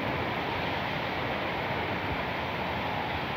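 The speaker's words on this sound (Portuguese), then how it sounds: "Muito vento, muita chuva." Strong wind with heavy rain outdoors, a steady dense roar of broadband noise with no breaks, loud and close to the microphone.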